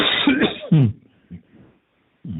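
A few short coughs, close and fairly loud, spaced out with quiet gaps between them.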